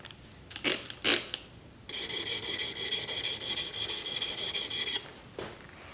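A woodworking chisel scrapes across a sharpening surface: two short, sharp rasps, then a long stretch of rhythmic back-and-forth grinding strokes that stop abruptly, close and fairly loud.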